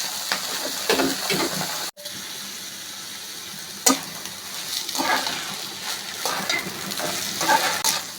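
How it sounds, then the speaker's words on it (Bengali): Broken rice with garlic and green chilli fries and is stirred in a pan, giving a continuous close sizzle with scraping stirs and a brief cut partway through, no talk over it. "আমি খুদটাকে ভালোভাবে ভেজে নিচ্ছি।"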